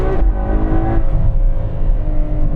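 A Ferrari 812 Superfast V12 heard from inside the car, a loud, steady, close engine drone that swells slightly around the middle, with no talk.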